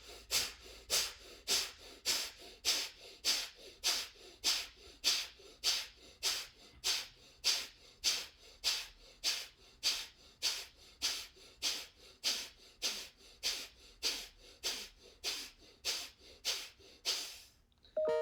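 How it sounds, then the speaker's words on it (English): Rapid rhythmic breathing exercise with about thirty quick, forceful nasal inhale-exhale bursts, steady and evenly spaced over most of the clip, close and alone with no talking. "we will do the breathing with the fast breathing"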